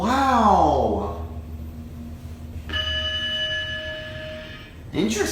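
Arrival chime of a 2016 Schindler 3300 MRL traction elevator at a hotel, a sustained multi-tone bell ringing for about two seconds after voices, with more talk at the end.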